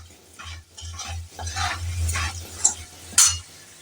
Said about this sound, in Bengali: এর মধ্যে সামান্য একটু জিরে ধনের গুঁড়ো দিয়ে দিলাম এটাকেও শুকনোভাবে ভাজা ভাজা করলাম